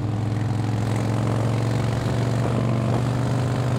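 Motorcycle engine under throttle while riding, a loud, steady droning hum that holds a constant pitch throughout.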